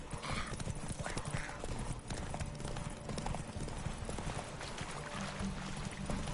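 Horse hooves clip-clop at a steady gallop in The Witcher 3 video game, loud and continuous, with a rider's voice and an occasional whinny over the hoofbeats.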